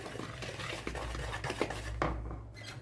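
A utensil scrapes and knocks around a bowl in a steady stirring motion through corn cake batter with sesame seeds, with a constant low hum underneath and no voices.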